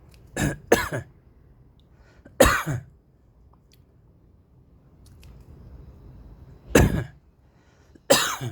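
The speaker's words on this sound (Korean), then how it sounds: "기침" Several sharp coughs and throat clearings come in bursts, close and loud, separated by quiet pauses.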